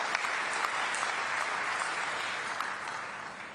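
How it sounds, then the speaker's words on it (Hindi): An audience at a farmers' day event in Raipur applauds loudly and continuously, a dense wash of clapping that holds steady throughout without any speech. "पुरंदर मिश्रा जी के लिए जोरदार ताली।"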